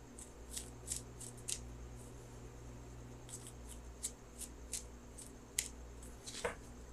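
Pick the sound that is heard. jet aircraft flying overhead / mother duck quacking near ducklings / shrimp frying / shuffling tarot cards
shuffling tarot cards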